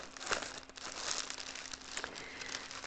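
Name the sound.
crinkling of paper or plastic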